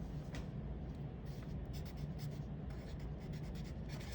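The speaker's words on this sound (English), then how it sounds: "You need to write your name" Pen writing on notebook paper, a soft continuous scratchy rub of the nib moving across the page, close and quiet, steady for about four seconds.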